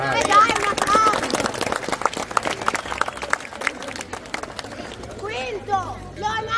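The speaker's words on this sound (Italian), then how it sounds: "Sesto classificato, Locate! Vai. Dai un applauso!" A festival crowd at the Palio del Seprio egg-throwing contest in Venegono Inferiore claps for the sixth-place team amid lively shouts and chatter from many voices.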